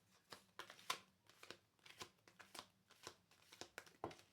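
Rapid riffling card shuffles, a series of crisp papery bursts repeating about every half second, close and fairly quiet.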